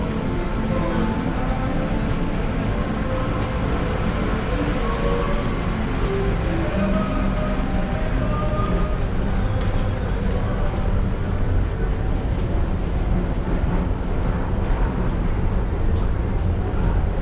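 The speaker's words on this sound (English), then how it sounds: "Train" A Mexico City Metro train on a hot car with no air conditioning produces a steady, dense rumble and roar that runs unbroken throughout, with voices faintly present in the mix.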